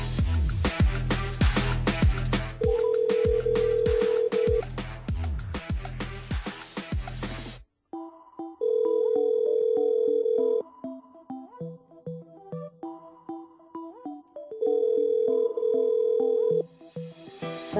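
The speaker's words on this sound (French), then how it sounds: "Allez, on appelle Cécilia du côté de la rivière" Telephone ringing tone on a call placed live during a French-language evening radio show, steady repeating rings alternating with gaps, heard over loud music.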